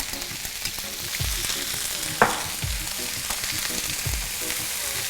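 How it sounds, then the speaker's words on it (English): Bell peppers, onions and carrot sauté in a hot pot with a constant, bright sizzle, with a few soft scrapes as the vegetables are stirred and one sharp clink midway. "And you hear that nice sizzle."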